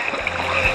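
Creek water at Cockatoo Creek flowing steadily in a close, continuous wash with no voices.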